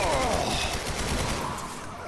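AK rifle fire in the video game The Darkness 2: a dense, continuous burst of rapid automatic shots, loud and close, with no talking over it.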